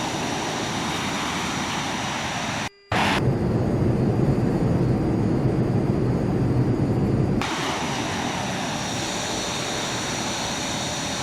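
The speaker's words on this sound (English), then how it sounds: "we are going to give it full afterburner" An F-15 jet at full afterburner in Microsoft Flight Simulator X gives a loud, steady engine roar. A brief dropout comes early, then the roar continues and its tone shifts partway through. No one talks.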